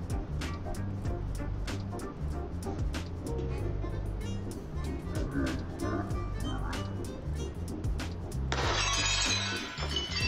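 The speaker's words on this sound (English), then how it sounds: "And just like that, it breaks within a second." A glass bowl shatters from thermal shock as molten glass is poured into it, a sharp bright crack and burst of breaking glass near the end, over a steady low roar of furnace or room noise.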